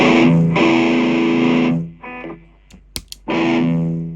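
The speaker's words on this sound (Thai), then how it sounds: "ผมใช้เสียงแตกจากตู้แอมนะครับ" Heavily distorted electric guitar chords, distortion from the amplifier, ring out loudly, stop for a moment of quiet string noise and scrapes, then another distorted chord blares.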